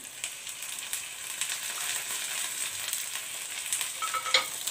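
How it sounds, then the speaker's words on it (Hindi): A medium onion and two medium tomatoes fry in a pan for a mixed vegetable dish, giving a steady, soft, fairly faint sizzle with light crackles throughout and no talking. "इन्हें थोड़ा सा फ्राई करेंगे।"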